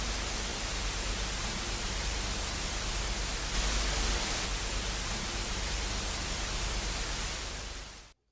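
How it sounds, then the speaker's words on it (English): Steady white noise, a flat broadband hiss at constant loudness, running alone for about eight seconds before cutting off abruptly. "You're probably dying to know by now if you correctly guessed what white noise sounds like."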